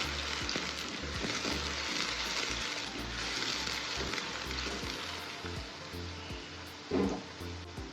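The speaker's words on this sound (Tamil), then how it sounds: "இதில் 2 மீடியம் சைஸ் வெங்காயம் சேர்த்துருக்கேன்." Onions and fenugreek seeds sizzle steadily in hot oil in a home kitchen, a continuous close frying hiss with a few stirring knocks and one louder clatter near the end, no talking.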